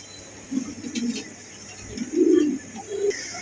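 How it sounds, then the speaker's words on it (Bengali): Pigeons at a Bangladeshi pigeon farm coo in low, soft, repeated bursts, a few calls close together over faint background noise. "প্রিয় বন্ধুগণ এই পর্যন্ত দেখতে পাচ্ছি স্ক্রিনে আরো এক জোড়া আনকমন কবুতর আছে"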